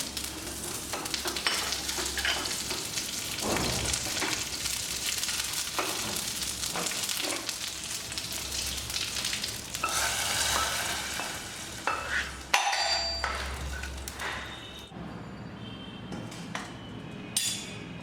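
Steady crackling sizzle of mustard seeds, dried red chillies and curry leaves frying in hot fat for Mysore rasam, with occasional stirring clinks against the pan, close and continuous.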